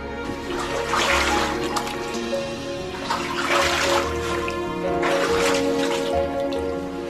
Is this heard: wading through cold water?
yes